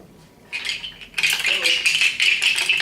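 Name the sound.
rattle imitating buffalo hooves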